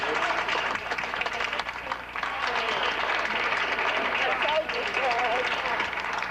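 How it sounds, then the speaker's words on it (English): Applause breaks out among people in a city council chamber, a moderate, steady patter of clapping with voices mixed in. "the people inside broke into applause"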